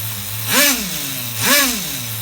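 The nitro engine of an HPI RS4 F150 RC truck runs on a bench, holding a steady high idle broken by two quick throttle blips that rise and fall sharply.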